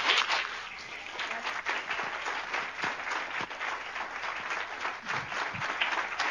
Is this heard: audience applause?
yes